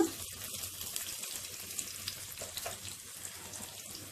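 Chopped green chillies and curry leaves fry in oil for foxtail millet amla pulihora, giving a soft, steady sizzle with faint scattered crackles throughout and no one speaking.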